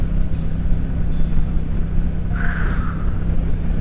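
A car drives past on a road, a steady engine rumble with a brief rising whoosh as it goes by, heard from inside another vehicle with no talk.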